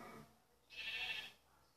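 A sheep in the Minecraft video game gives a single short bleat, thin and fairly faint, after a brief quiet lead-in.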